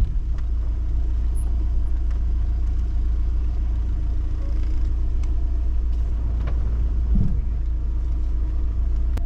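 A car creeping over rough, rocky ground at a campsite in Turkey, a steady low engine rumble and road noise throughout with a brief scraping knock partway through.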